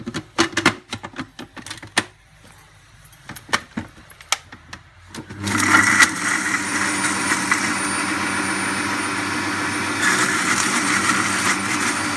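A kitchen mixer grinds roasted ginger, chili, coconut, sesame and salt for cranberry chutney. Several seconds of sharp clicks and knocks come first, then the motor starts into a loud, steady grinding whir that runs to the end.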